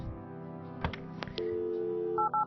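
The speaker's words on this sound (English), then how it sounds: "Of course, we go phone Dave." Telephone dialing in the adventure video game Kathy Rain: a handful of clicks, then a steady tone and a quick pair of electronic dial beeps at the end, clear and close with no voices.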